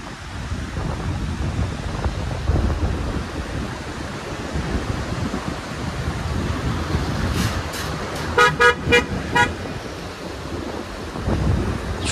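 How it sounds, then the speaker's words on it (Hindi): Vehicles cross a small bridge over a fast-flowing river, rumbling past amid steady rushing water and wind, with a short burst of repeated horn toots near the end. "छोटा सा ब्रिज है, इससे गाड़ियाँ क्रॉसिंग हो रही हैं।"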